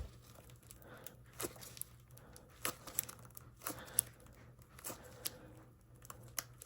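Heated rubber tire peeling away from a hot RedCat Scout II beadlock rim, giving close, quiet crinkling and tearing crackles in irregular bursts over a low steady hum.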